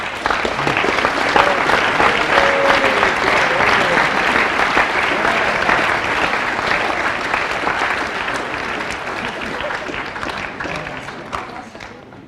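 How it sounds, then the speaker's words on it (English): A high school spring assembly crowd gives the 10th grade a big round of applause: dense, loud clapping and cheering fills the hall for about twelve seconds, easing slightly toward the end. "big round of applause for our 10th grade"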